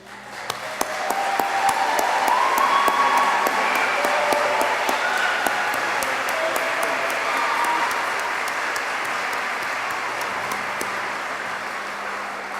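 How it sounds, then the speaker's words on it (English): Sustained audience applause fills a graduation commencement ceremony, a dense steady wash of many hands clapping with scattered sharper claps, holding strong throughout and easing slightly near the end. "join me again in a round of applause for all of our graduates"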